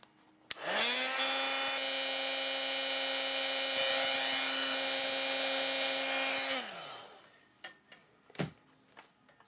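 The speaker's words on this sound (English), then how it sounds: "I'm just going to go ahead and just put my heat gun to it really quick here" A heat gun runs for about six seconds at close range, a steady loud whirring blow with a high motor whine that rises at switch-on and winds down, followed by a few light taps.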